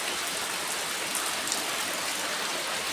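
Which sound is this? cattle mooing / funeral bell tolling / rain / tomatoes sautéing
rain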